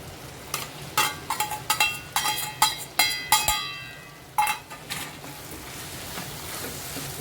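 Sautéed eggs being stirred into masala in a pan; a quiet background sizzle is broken by a series of sharp, close spatula scrapes and clacks in irregular bursts, then the scraping settles back to a low fry.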